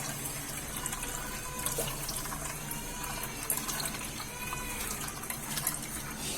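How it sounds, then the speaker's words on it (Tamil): Blended banana stem soup being strained, a steady close trickle and splash of liquid running through a strainer for several seconds, with no talking. "சூப்புக்கு அரைச்சி வடிகட்டி வச்சாச்சு."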